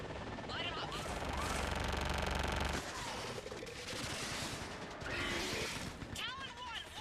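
Air support gunfire strikes in Mass Effect 3, with dense, continuous rolling bursts of weapons fire and heavy rumbling blasts that pause briefly and then return, loud and close, along with bits of radio-style chatter.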